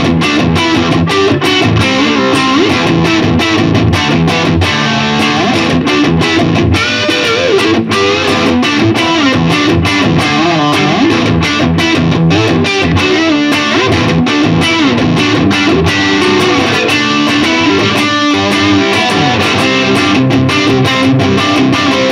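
An electric guitar plays through a Beyond Tube Buffer+ pedal at its lowest setting into an amp, giving a loud, thick, continuous stream of strummed and picked chords without any voice.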